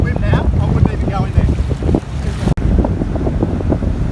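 Turbulent surf churning at a rip current on a Phillip Island beach in Australia, steady loud wash of water with strong wind buffeting the microphone, continuous throughout with a brief dropout.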